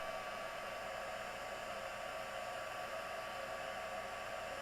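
A hot air tool blows steadily while heating rocks, a constant faint rushing whir with no change in pitch or level for several seconds and no talk over it.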